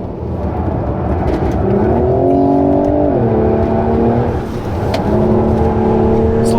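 A Mercedes-AMG E43 with twin-turbo V6 pulls hard from inside the cabin, engine note rising steadily in pitch, dipping at a shift, then climbing again, loud and continuous.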